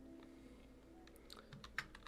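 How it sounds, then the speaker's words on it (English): Fingers tap on a computer keyboard with soft, scattered clicks over a faint hum, quiet and irregular, as symbols are typed out while playing Magic: The Gathering. "Gosh, I suck at typing symbols."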